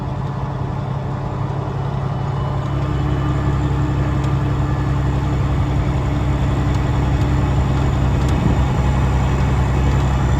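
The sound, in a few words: tractor running an alfalfa hay merger at 1400 RPM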